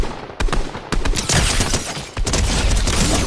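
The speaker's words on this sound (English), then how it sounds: "I hear shooting over here." Dense bursts of gunfire in a first-person shooter video game, loud overlapping rifle shots and rapid automatic fire filling the clip with no pauses and no talk.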